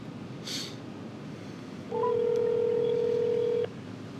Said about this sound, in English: Let's go ahead and give my mom a phone call right now.